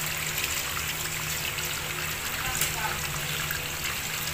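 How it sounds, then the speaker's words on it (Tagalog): Water runs steadily through a fishing catch setup holding small fish, a constant broadband wash with no breaks, loud and close throughout. "Ang dami tubig."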